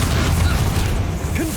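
A Bombarda blasting spell goes off in Hogwarts Legacy, a short low booming burst that rumbles heavily through the whole moment, with a faint rising tonal flick near the end.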